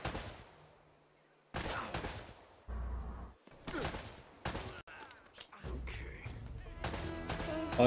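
Gunfire in the Uncharted: Drake's Fortune video game, a series of sharp shots and short bursts at varying distances with echoing tails and background combat noise.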